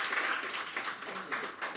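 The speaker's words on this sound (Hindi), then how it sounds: "मुझे तालियां बजा के बताइए कि आप अच्छा सुन रहे हैं" An audience claps steadily at a Hindi comic poetry recital, a dense continuous wash of applause with slight surges.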